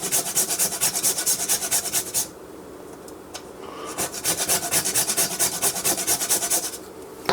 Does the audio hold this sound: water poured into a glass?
no